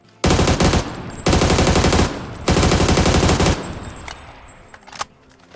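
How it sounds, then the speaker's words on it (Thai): Three long bursts of rapid automatic gunfire from the video game PUBG, loud and close, separated by short pauses, followed by a quieter trailing shot and echo. "ก็จะได้เสียงปืนประมาณนี้ครับ"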